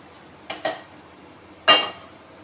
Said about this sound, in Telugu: స్టవ్ వెలిగించుకొని ఒక ప్యాన్ పెట్టుకోవాలి